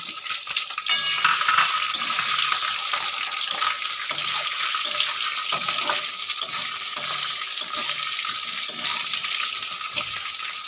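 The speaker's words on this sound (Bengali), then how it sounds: "এবার দিয়ে দেবো চিংড়ি মাছগুলো আমি হালকা করে ভেজে নেব" Prawns frying in hot oil in a pan, a loud continuous crackling sizzle with small popping bursts, steady from start to finish and free of talk.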